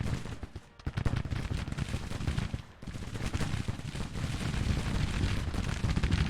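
Civil War battle in a strategy game at the First Battle of Bull Run, with dense volleys of cannon and musket fire crackling and booming in rapid, overlapping bursts, loud and continuous with a brief lull near the middle.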